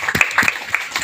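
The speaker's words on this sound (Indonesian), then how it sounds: "Tepuk tangan dulu buat kalian." Brief burst of congregational applause for Sunday school children's ministry leaders at a church service, a second of scattered claps with some cheering voices mixed in.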